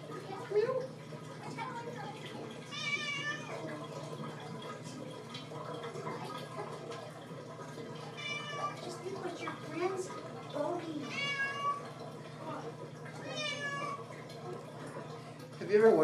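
A cat being bathed in a bathtub lets out several drawn-out, wavering meows spaced a few seconds apart, over sloshing water and background murmur.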